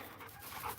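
A dog named Roxy pants in a yard during a walk, a brief burst of quick breathy puffs, faint and close.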